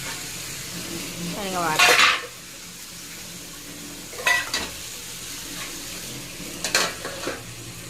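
Food being sautéed in a pan, with a spoon scraping and stirring against the metal in a few distinct bursts over a low background. A brief spoken word can be heard between the stirs.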